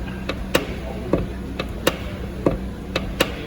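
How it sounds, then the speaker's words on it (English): Worn door check straps on a 2011 Vauxhall Astra click as the rear door moves, a series of about nine crisp, evenly spaced clicks, close and fairly loud against quiet background. "They're always getting worn out and click, click, click, click."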